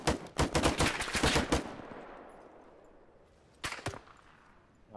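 Gunfire in ArmA 3, set in the Soviet-Afghan War: a rapid burst of automatic shots rings out at the start, fades into echoing tail, then a shorter burst of shots follows near the end.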